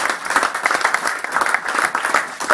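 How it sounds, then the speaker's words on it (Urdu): Audience applause at a press club event, dense steady clapping from a crowd filling the room, loud and close with no pauses. "کھڑے ہو جائے تالیوں کے ساتھ"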